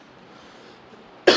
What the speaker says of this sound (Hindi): मौसम ऐसा है ना, खांसी वासी हो जाती है